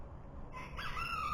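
A rooster crows at some distance, a short rising call over a low, steady background rumble in a backyard chicken setting.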